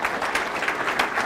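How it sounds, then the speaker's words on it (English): Brief burst of audience applause at a scholar-athlete recognition awards ceremony, dense steady clapping from a crowd filling the room. "Yeah, it's okay to clap."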